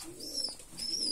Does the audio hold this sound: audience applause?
no